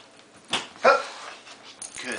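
A dog during hoop trick training gives two sharp barks close by, with a faint yip near the end over quiet background.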